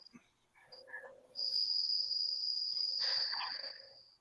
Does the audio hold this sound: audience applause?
no